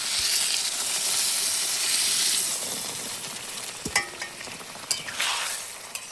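Water poured into frying masala for an egg curry sets off a loud hissing burst of steam and sizzle that fades gradually, followed by a few sharp utensil clinks and stirs up close, with no talk.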